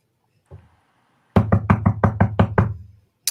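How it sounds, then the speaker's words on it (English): Knocking on a castle door in the morning: seven or eight firm, evenly spaced raps in a quick steady rhythm, close and loud, after a brief soft bump. "there's a knock on your door."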